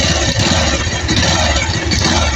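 A Rouser 180 motorcycle engine idles steadily after a fix for a knocking fault, giving a continuous close mechanical drone with a faint whistle, loud and alone with no talk.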